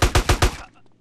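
Gunfire in the video game GTA San Andreas, four rapid loud shots in quick succession followed by a brief fading tail.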